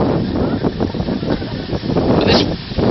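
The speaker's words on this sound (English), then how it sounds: "But this wind's not helping either." Strong wind buffets a microphone beside a railway level crossing, a loud, steady roar with gusty rumbling throughout, no talk.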